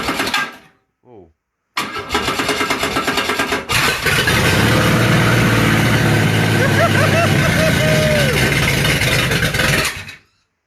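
A Ford Falcon 221 engine with no exhaust fitted cranks briefly, stalls, then fires and settles into a loud, raw, steady run, with a person talking over it.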